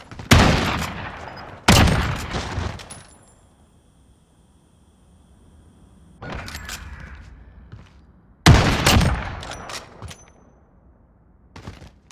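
Bursts of gunfire from a Call of Duty match in a university tournament, loud rapid volleys near the start, a long quiet gap, then further clustered shots later.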